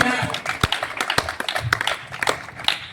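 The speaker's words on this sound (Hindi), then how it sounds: "जोरदार तालियां प्लीज" An audience claps at an event, with sharp irregular hand claps scattered across a few seconds, fairly close and moderately loud, mixed with voices in the background.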